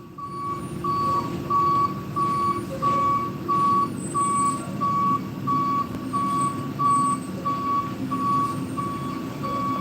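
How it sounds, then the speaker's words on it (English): A truck at nearby construction sounds its reversing alarm, a regular train of evenly spaced beeps repeating about every half second, set against a constant low rumble of engine and traffic from some distance. "I don't know if that's a truck or a bus, but there's been a lot of noise."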